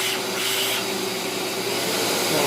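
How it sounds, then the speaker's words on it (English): An OPOWO dog grooming vacuum runs steadily on its high suction setting, giving a continuous close-up whirring hiss with a faint tonal whine and no pauses, alone without talk. "A little bit of suction power you can kind of hear."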